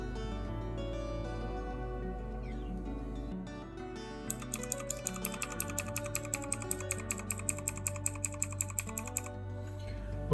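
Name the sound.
pressing F9 key on computer keyboard to select boot device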